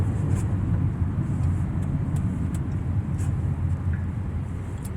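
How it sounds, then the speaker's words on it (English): Road traffic heard from inside or near a car on a morning drive, a steady low rumble of engines and tyre noise at even loudness throughout, with no talking. "Traffic was just flowing, now it's just stopped."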